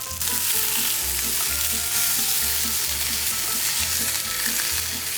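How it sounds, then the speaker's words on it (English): Sausage frying in a pan gives a loud, steady sizzle with rhythmic stirring scrapes pulsing about every half second, close up and with no voices. "I'm actually gonna start cooking the sausage while you're doing the cheese."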